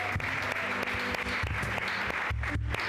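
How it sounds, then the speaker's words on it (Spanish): Audience applause at a Spanish-language Christian sermon, steady clapping from a crowd filling the clip at moderate level, with brief low voice-like murmurs underneath. "Den un aplauso a él."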